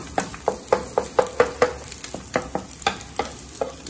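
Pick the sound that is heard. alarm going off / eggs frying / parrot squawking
eggs frying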